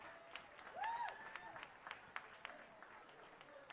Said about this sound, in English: People frickin' applaud.